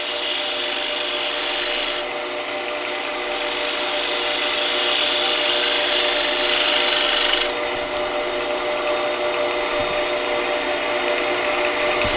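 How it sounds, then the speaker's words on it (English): Bowl gouge cutting across the face of a wooden table lamp base held in a four-jaw chuck on a lathe, a steady, loud, close scraping rasp that runs continuously with brief lighter dips, no talk. "First thing I'm going to do is flatten off the face here. True that up with the bowl gouge."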